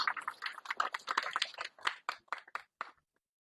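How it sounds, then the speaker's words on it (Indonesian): Church congregation clapping for Jesus, a burst of sharp, close claps that thin out into scattered final claps before falling silent. "Beri tepuk tangan yang terbaik buat Tuhan Yesus"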